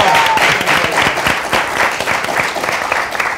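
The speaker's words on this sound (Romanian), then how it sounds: "Aplauze pentru Sorin Pârcălab." A studio audience at a Romanian comedy show breaks into loud, sustained applause, dense clapping that stays strong throughout the short stretch with no one speaking over it.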